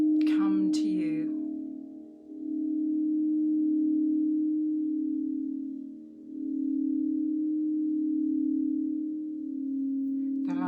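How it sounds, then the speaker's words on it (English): Singing bowls ringing in a long, steady, soft hum that swells and fades in slow waves, with a short spoken phrase at the start and another faint word at the very end. "So just let the sounds of the bowls"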